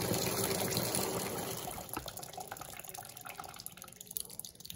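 An Electrolux Blue Touch 12 kg washing machine with hot water, loaded with bath towels, runs water into its drum in a steady rushing fill that fades to quieter trickling and dripping.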